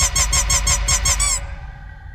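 Rapid series of about eight bright squeaks from a horror video game, evenly spaced and loud, ending abruptly in a faint tonal hum.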